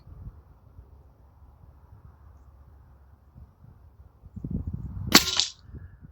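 A leaky PCP airgun fires a pellet once, a sharp close crack near the end that follows quiet low rumbling handling noise.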